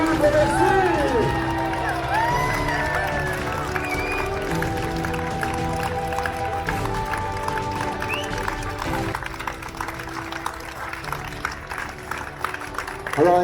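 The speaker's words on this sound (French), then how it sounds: "Et vos applaudissements qui évoluent, merci." Steady applause from a crowd at a charity cycling event, with scattered cheers and a voice speaking over the clapping.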